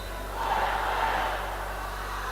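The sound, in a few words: crowd cheering at a table tennis match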